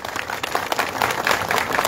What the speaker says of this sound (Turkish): Kadir Başkanımızı ayakta alkışlamaya sizi davet ediyorum.